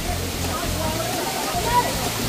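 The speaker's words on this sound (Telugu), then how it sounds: "మొత్తానికి సరిగడు వాటర్ ఫాల్స్కి వచ్చేసాం." Water at Sarugudu waterfalls pours in a constant, broad rushing roar, close and loud, while a person talks over it.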